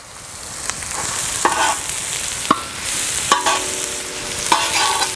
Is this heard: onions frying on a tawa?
yes